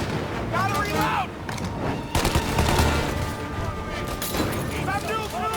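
Busy combat gunfire in Mafia Definitive Edition, with sustained shots and bursts layered through a loud, dense scene while voices shout over the action.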